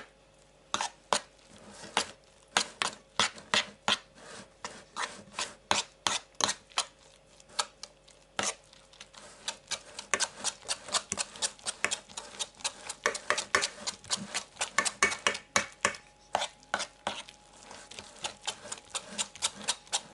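Rapid, irregular clicking and tapping of a utensil against a bowl while stirring a curd (tvorog) bun dough mixture, steady bursts continuing throughout at close range with no talking.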